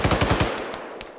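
Rapid machine gun bursts from a firefight in the Arma 3 military video game, loud and close, with evenly spaced rounds fading into a brief lull and then a single sharp report.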